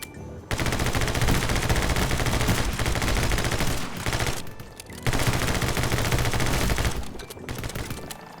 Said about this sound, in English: So we got a shotgun.